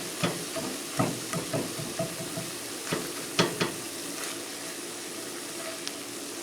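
Steady sizzling of sausage frying in a pan, with repeated scraping taps of a spatula chopping through the meat, close and continuous.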